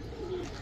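Giribaz pigeons give a low, steady cooing call, one sustained murmur lasting under a second at close range.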